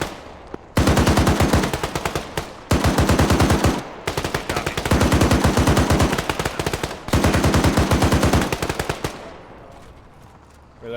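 Machine gun suppression fire in the Arma 3 video game, long sustained bursts of rapid, loud, close shots broken by short pauses.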